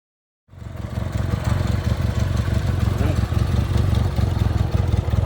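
A Honda 305 Dream motorcycle engine starts and settles into a steady, close, loud idle with an even throbbing beat after a brief moment of silence.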